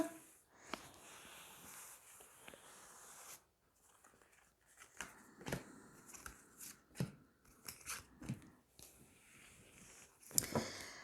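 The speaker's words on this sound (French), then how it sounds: "Allez, on va tirer 3 cartes." Tarot cards being shuffled and drawn, with soft papery slides, flicks and taps in irregular bursts separated by brief pauses, close and quiet, no talking.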